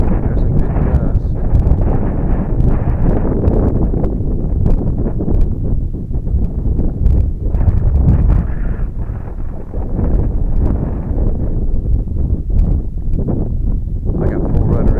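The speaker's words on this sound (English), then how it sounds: "There's a good gust." Heavy wind buffets the microphone in continuous rumbling gusts, loud and close, with low roaring bursts throughout, while flying an Eachine P51D 500mm brushless RC plane.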